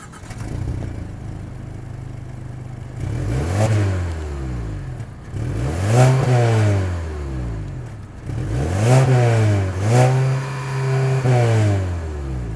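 A 2025 Mazda 3's 2.5-liter naturally aspirated four-cylinder engine revs repeatedly in three or four bursts, pitch climbing and falling back to a steady idle between each rise; close and loud, no talking.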